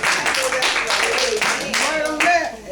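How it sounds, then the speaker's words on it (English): A church congregation claps hands in praise, dense broadband clapping running steadily throughout, with voices talking and calling out over it. "Give the Lord a hand clap of praise"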